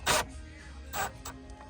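Wire terminals on a 240V level-two EV charger are tightened with a screwdriver close up, giving short scraping, rasping twists in a few bursts with quiet gaps between them.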